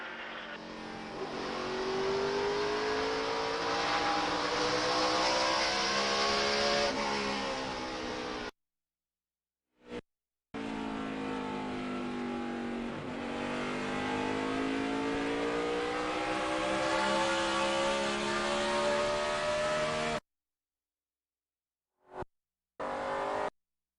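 Stock cars roar around Richmond International Raceway during the 2006 NASCAR Chevy Rock and Roll 400, loud sustained engine drone with rising and falling pitch as cars pass, cut by brief gaps of silence.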